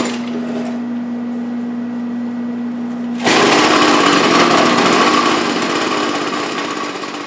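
A Craftsman string trimmer's small two-stroke engine idles steadily, then opens up into a loud, dense, buzzing roar that sags slightly as it keeps running; its carburetor is out of adjustment.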